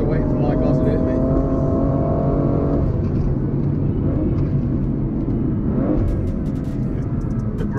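A BMW M2 driven flat out, its engine roaring loud and close as a continuous broad rumble with a tone that climbs then drops at a gear change, staying strong throughout.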